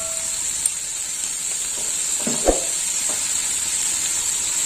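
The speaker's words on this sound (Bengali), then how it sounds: "এবার টক দই দেওয়ার পর আর একটু কষিয়ে নেব।" Spices sautéing with a little sour yogurt in a hot pan, giving a steady sizzling hiss with a few stirring scrapes partway through, close and with no voices.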